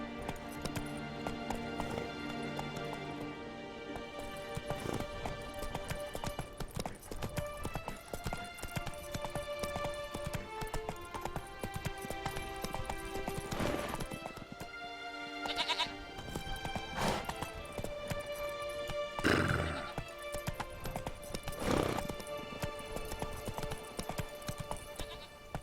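Roach the horse galloping in The Witcher 3, a steady clip-clop of hooves running throughout under game music and ambience, with a few louder accents near the end.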